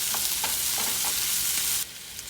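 Green onions frying in oil for kimchi fried rice, a steady close bright sizzle with a few soft stirring clicks, dropping abruptly quieter near the end.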